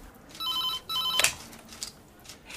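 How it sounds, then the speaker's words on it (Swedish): An old-style telephone bell rings in two short trilling bursts, followed by a clunk as the receiver is picked up, then quiet room noise. "det är Emma Derkers telefon"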